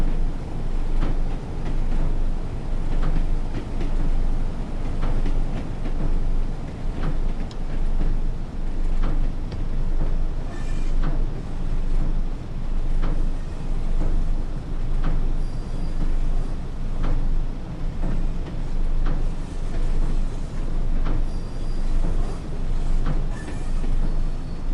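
A train on the Tees Valley Line in Train Sim World 2, a steady low rumble of running gear with regular rhythmic clicks and clunks as it slows toward a platform, continuous and fairly loud throughout.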